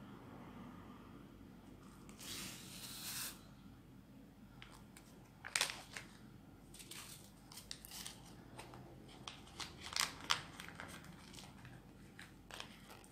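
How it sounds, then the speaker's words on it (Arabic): A paper sachet of vanilla sugar is torn open and emptied in a kitchen, faint crinkling with a few sharp tearing and rustling bursts over quiet background, no speech. "وغادي نوضع ليها الكيس ديال الفانيلا."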